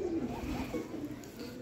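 A slate-grey female pigeon among Golden Kamagar breeder pigeons gives a few soft, faint coos over low background noise.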